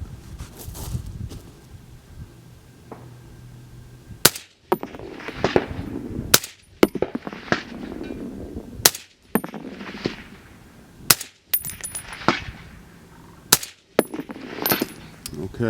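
Rifle shots ring out at long-range targets set out to hundreds of yards, about seven sharp, loud cracks spaced a couple of seconds apart over wind noise, with faint metallic impact pings after some shots.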